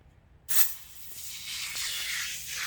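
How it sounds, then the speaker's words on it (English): Foaming aerosol cleaner bursts from the can onto a stump bucket, a sudden close hiss that holds steady as a continuous spray for about two seconds. "I'm going to try this aerosol, the foaming aerosol for this one."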